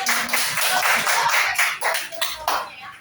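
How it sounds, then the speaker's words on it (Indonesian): Children in an elementary school classroom clap together in a brief burst of scattered, uneven applause, close and lively. "Oke, tepuk tangan untuk yang sudah manis."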